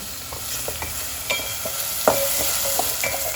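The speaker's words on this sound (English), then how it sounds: "Let's fry this onion till it is nice and golden." Finely chopped onion fries in oil in a pan, a close, steady sizzle punctuated by a few sharp scrapes and clicks as it is stirred.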